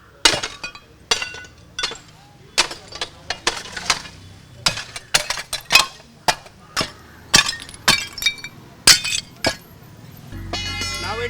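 A ceramic commode is smashed to pieces with repeated sharp cracking and shattering blows, about twenty in quick uneven succession, loud and close, with fragments clinking and no voices.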